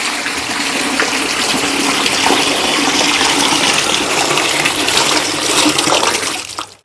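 Water gushes steadily into a homemade liquid fertilizer mixture for plants, a loud continuous pour lasting several seconds before cutting off abruptly, with no voices.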